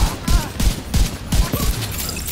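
Rapid bursts of rifle fire in The Division 2, about six sharp, loud shots in quick irregular succession over a steady game background, with no talking.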